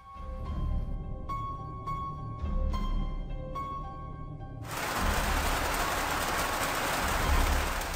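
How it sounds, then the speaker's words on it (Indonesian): Steady, dense rain falls on the porch roof of a mosque at night. A hiss of drops fills the second half, after a brief stretch of repeating tonal notes at the start. "Malam itu ditemani suara air hujan yang turun mengenai atap serambi masjid."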